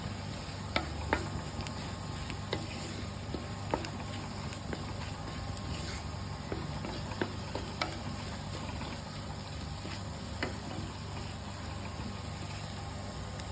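Masala fries in a pan for crab roast, giving a steady low sizzle with faint scattered scraping clicks from stirring, close and constant without talk.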